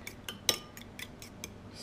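A fork stirs beaten eggs in a bowl, with no salt, pepper or milk added, making a quick run of light metallic clinks and taps at an uneven rhythm, close and fairly soft, with no talking.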